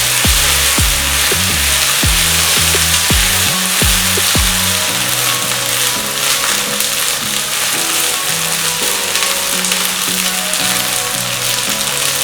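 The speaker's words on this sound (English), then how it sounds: "And I am going to fry." Prawns frying in a pan with a spoonful of water for Bengali Chingri Macher Malaikari, a steady loud sizzle with a few sharp clinks of a spoon at the start.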